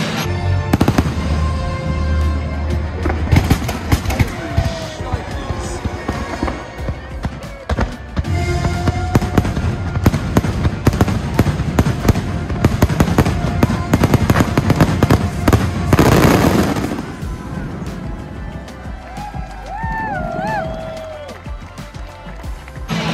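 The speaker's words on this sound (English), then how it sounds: "We just watched the new fireworks show for the first time and it was unreal." A fireworks show at EPCOT booms and crackles continuously, loud and close, over a cheering crowd, with excited voices and music mixed into the dense rumble.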